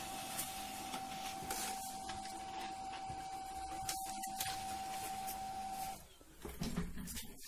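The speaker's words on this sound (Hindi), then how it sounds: "अब ये प्रिंट आपके सामने निकल जाएगा" A Canon imageCLASS LBP6030 laser printer runs a page at close range, giving a steady mechanical whir with a constant tone that stops abruptly near the end, followed by a brief rustle as the sheet comes out.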